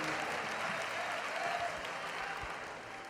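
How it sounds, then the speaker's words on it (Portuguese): A church congregation applauds together in a large room, a dense wash of clapping that slowly fades toward the end. "os que podem, tomem seu assento aplaudindo a Jesus"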